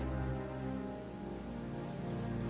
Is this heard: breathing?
no